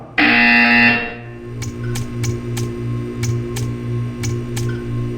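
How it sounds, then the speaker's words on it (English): In the Portal 2 test chamber, a loud alarm-like electronic tone blares for about a second, then a low hum carries on under a run of short, sharp repeated buzzer pulses, close and without speech. "When you hear the buzzer, stare at the art."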